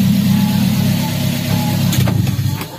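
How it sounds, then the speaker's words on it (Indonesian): A Daihatsu Gran Max engine with a clogged catalytic converter idles with a hanging RPM, a close, steady low rumble that runs through the whole stretch with faint clicks near the end and no talk. "RPM kan sering gantung-gantung makanya throttle bodinya mau dibersihin."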